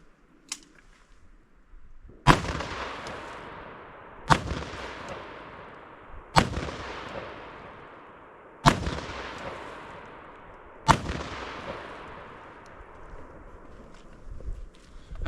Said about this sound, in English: Not much left to shoot with the rifle.